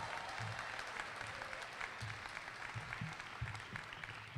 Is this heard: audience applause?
yes